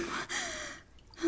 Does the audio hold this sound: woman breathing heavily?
yes